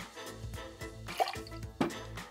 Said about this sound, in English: 30 ml, 1/2 ounce of Ocean Spray Cranberry Juice